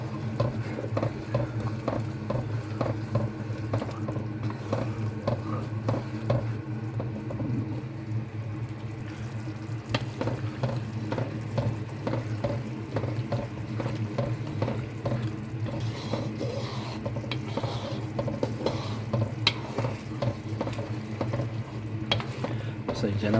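A spatula repeatedly scrapes and stirs thick sticky rice for biko in a pan, with soft sizzling and an irregular scraping rhythm over a low exhaust fan hum.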